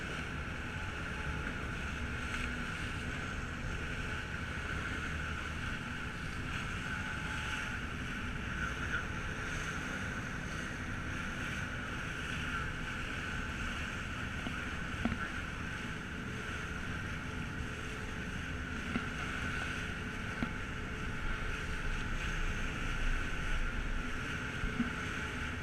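A ferry crossing to Kelley's Island carries a steady, continuous rumble of boat engine mixed with wind buffeting the microphone and a broad watery wash, unchanging throughout with no voices.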